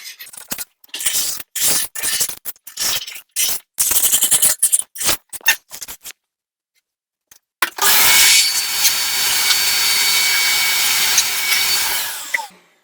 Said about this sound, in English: the small knife is bending nicely and it's running flush with the knife, with the tile, and it's get rid of all the excess of the silicone from the wall